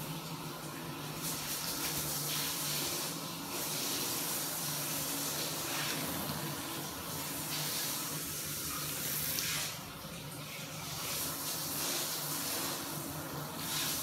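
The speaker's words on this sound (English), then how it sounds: "I'm going to put a shower on jet wash mode." A shower runs on jet wash mode over a drain grid, giving a steady, fairly faint hiss and splash of spraying water that continues unbroken with no talk.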